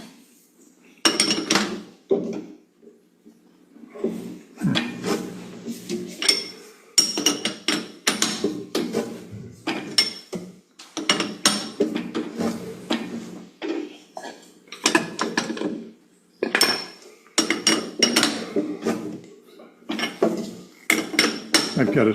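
Short bursts of metallic ratcheting, clicking and scraping come from a key tightening a cutter on a wood lathe. The bursts repeat irregularly with brief gaps between them.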